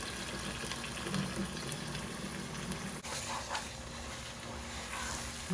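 Ethiopian dried-meat stew (kwanta wot) sautéing in a pot as water is dripped in, giving a steady close sizzle and bubbling hiss that runs throughout with no voices.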